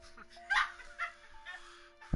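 A pet dog gives several short, high whimpers and yips in quick succession, fairly close and moderately loud, ending in a sudden low thump.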